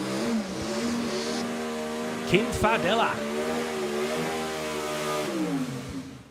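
A burgundy drag racing car from Perth idles and revs with a steady, harmonic engine drone at an elimination meet, swelling briefly midway, while people talk over it and a name is spoken.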